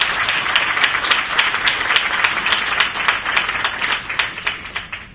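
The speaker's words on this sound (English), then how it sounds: "And go ahead, give him a clap." Applause from an assembly chamber crowd honoring a young spelling bee champion, a dense steady wash of many hands clapping throughout, fairly loud and unbroken with no talk over it.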